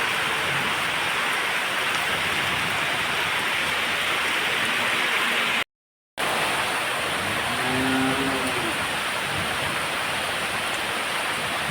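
Steady first rain of the season falls and patters across the surfaces close by, a continuous hiss with no voices, briefly cut off by a moment of silence partway through.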